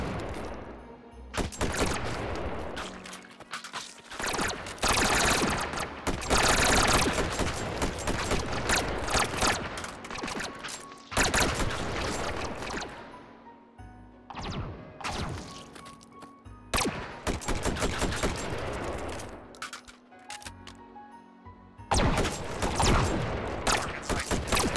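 Relentless enemy gunfire in the VR shooter Hot Dogs, Horseshoes & Hand Grenades, with loud, dense bursts of shots and crashing impacts coming in waves, broken by a few brief lulls, no voices over it.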